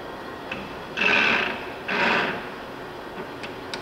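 A Timemaster Gurutzpe 32"/45" x 160" gap bed lathe runs its carriage on longitudinal power feed, a steady mechanical whir that swells twice in short bursts over a low machine hum.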